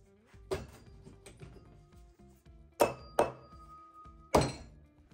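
A cork is pushed back into a bottle of Old Ezra 7 year barrel-strength Kentucky straight bourbon, giving a few close glassy clinks and hollow thunks, with three sharper knocks standing out in a quiet room.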